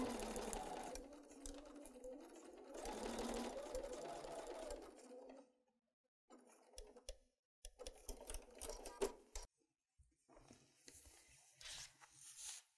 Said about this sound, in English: let's take that to the sewing machine right now.